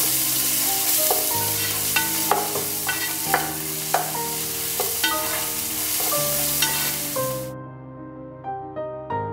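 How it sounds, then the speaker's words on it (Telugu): Onions frying with ginger garlic paste for chicken donne biryani, a continuous close sizzle broken by regular spatula scrapes and clinks against the pan, loud and with no talk. "ఆనియన్స్ లైట్ బ్రౌన్ అవగానే 3 టేబుల్ స్పూన్స్ అల్లం వెల్లుల్లి పేస్ట్ వేసి ఒక 3 నిమిషాల వరకు ఫ్రై చేస్తూనే ఉండాలి"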